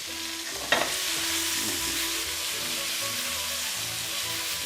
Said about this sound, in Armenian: Մեզ մոտ արդեն հավաքնել է տապակվում